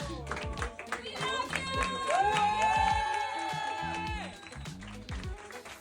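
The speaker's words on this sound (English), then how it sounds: "everyone lines up and they clap and they cheer for you, they celebrate you" Employees lined along an aisle inside an Apple store clap and cheer for a colleague walking through, the clapping and shouting filling the space at close range, with a sustained cheer rising in the middle before tapering off.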